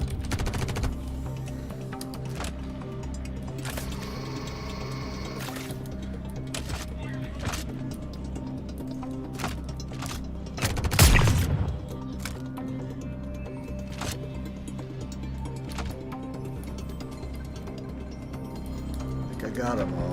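Rapid gunfire and a single grenade blast in the video game Star Citizen, with a dense bed of looping game sound and music throughout and one louder burst standing out midway.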